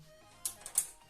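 A graphics card's retention tab snaps into its motherboard slot during a gaming PC build, giving two small, sharp, close clicks a fraction of a second apart, quiet and with no talking.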